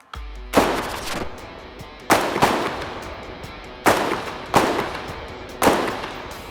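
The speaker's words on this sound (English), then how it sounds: "So this is the first time I'm hearing live firing. It was so loud." Live rifle fire at a military range, 100 meters, cracks out in five loud, sharp shots, some in quick pairs, each followed by a short echoing tail, with no talk.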